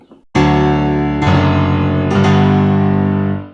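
A Bosendorfer grand piano virtual instrument strikes three loud, powerful chords in succession, each sustaining richly and overlapping before the last fades out, with no voices.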